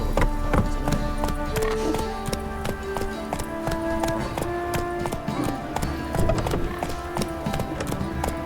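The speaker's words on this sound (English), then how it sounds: "Run, Roach. He can't take this" A horse gallops in The Witcher 3 video game, rapid rhythmic hoofbeats continuing throughout over a bed of game music, with a voice speaking briefly.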